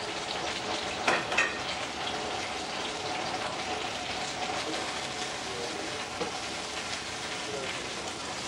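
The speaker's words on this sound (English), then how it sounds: "Here we have the artichoke leaves in the olive oil." Artichoke leaves sautéing in olive oil in a pan, giving a steady, close hiss of frying that runs continuously with a few brief clatters.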